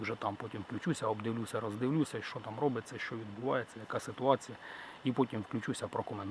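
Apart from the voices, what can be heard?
No distinct noise like a dog, phone or traffic.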